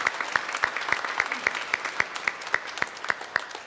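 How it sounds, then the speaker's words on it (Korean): A church congregation claps in welcome during a Sunday worship service, steady clapping with sharper individual claps punctuating a dense, room-filling applause that holds throughout. "우리 박수로 환영하겠습니다"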